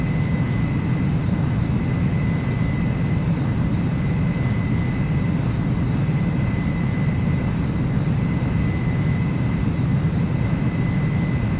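Steady aircraft engine drone from a jet on landing approach in the Ace Combat 04 flight game, loud and continuous throughout with a thin high whine riding over a heavy low rumble, no voices.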